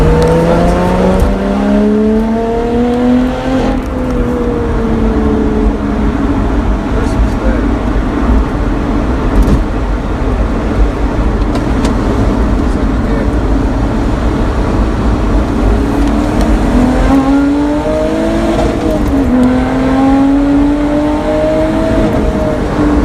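Sports car accelerating hard in third gear from around 40 mph with the exhaust valves open, a loud, steady rising engine howl that climbs twice, close and continuous, with a voice audible over it.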